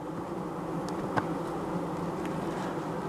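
Honeybees buzz steadily around a hive, a dense, close swarm drone that holds for the full three seconds while beekeepers check whether a newly introduced queen has been accepted.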